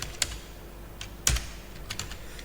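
Keys clack on a computer keyboard in a few quick, sparse taps spaced across a couple of seconds, close and fairly crisp against a quiet room.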